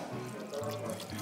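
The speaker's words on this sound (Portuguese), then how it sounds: "joga aqui um pouquinho só pra dar uma lavada no bicho" Tap water splashes and pours over a raw chicken being rinsed in a kitchen sink, a brief continuous running splash heard close up.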